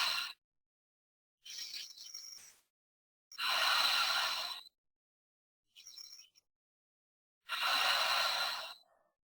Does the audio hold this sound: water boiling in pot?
no